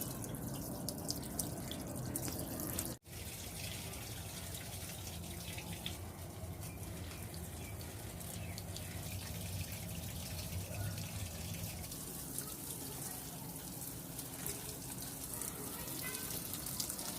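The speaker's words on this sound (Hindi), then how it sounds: "अब जो है जाती हूँ फूलों में पानी देने" Water from a tap runs and drips steadily as flowers are watered in a home garden, a continuous soft splashing with one brief interruption early on.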